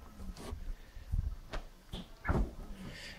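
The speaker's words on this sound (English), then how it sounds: "the door was very difficult to open after you've closed it" A Bosch fridge freezer door with a tight seal is pulled open, giving a few sharp clunks and thumps of the door and its fittings, close by.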